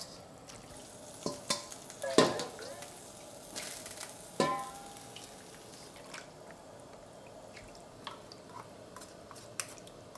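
Vegetables drop into a pot of boiling chicken soup stock over medium-high heat with a few splashy clatters and stirring scrapes, followed by quieter bubbling and occasional drips, up close.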